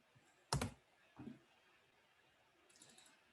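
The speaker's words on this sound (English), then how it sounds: "I have to keep typing this forward_in every single time" A few quiet keystrokes on a computer keyboard, one sharper click followed by a softer one and faint tapping later, over a low room hiss.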